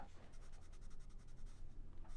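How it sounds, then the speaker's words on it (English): A marker colors a paper clothespin-puppet craft in quick, rhythmic back-and-forth scratchy strokes, close and quiet, with no talking. "I just color the bottom here."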